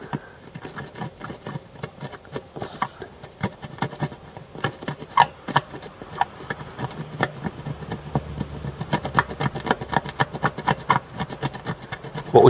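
Corrosion being scratched off an Amiga A500 circuit board with a hand tool, a dense run of close, sharp rasping scrapes repeating steadily, growing slightly louder toward the end, with no talking.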